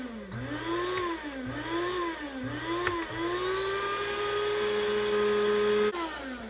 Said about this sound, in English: place the already partially ground sassafras leaves inside of a coffee grinder or mortar and pestle